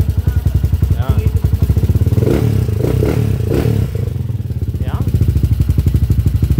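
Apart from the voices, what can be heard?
TMX125 Alpha 210cc motorcycle engine running with ticking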